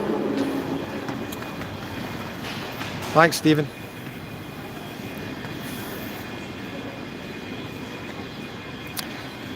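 A train at Glasgow Queen Street station gives a low, steady rumble from nearby throughout, and someone speaks briefly over it.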